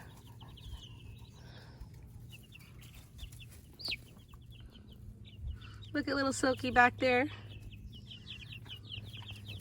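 Chickens in a backyard coop cluck softly in the background, with a louder burst of rooster-like squawking midway, while a person talks quietly nearby.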